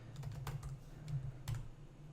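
Quiet keystrokes on a computer keyboard while a command is entered, a handful of soft irregular clicks over a low hum.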